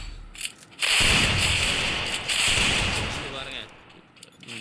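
Shotgun blasts ring out in a Free Fire room match, a dense run of loud, sharp shots that rises and falls over a few seconds while a player talks.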